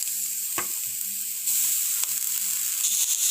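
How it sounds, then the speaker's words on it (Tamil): Grated beetroot hits lightly sautéed onions in a hot pan, setting off a steady, close broadband sizzle with a couple of sharp utensil clicks and a brief scrape, and no voices. "இப்போ வந்து நம்ம துருவி வச்சிருக்க பீட்ரூட் எல்லாம் சேர்த்துக்கலாம்."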